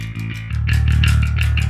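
Jazz bass tuned to drop D and run through an STL Tones AmpHub amp sim plays a steady, loud, sustained low riff, with the notes ringing on without pause and no voices.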